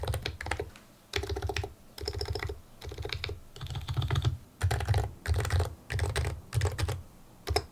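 Bursts of quick mechanical keyboard typing, each flurry of clacky keystrokes separated by short pauses, heard up close with no voices.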